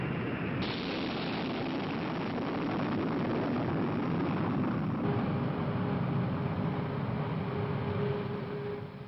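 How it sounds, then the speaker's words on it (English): Strategic Air Command B-52 bombers take off from bases in Thailand, Guam and Okinawa. Their engines give a sustained, dense jet roar that swells slightly midway, heard on an old, narrow-band film recording with no speech. "Taking off from bases in Thailand, on Guam, and Okinawa, SAC's B-52s head for targets in Vietnam"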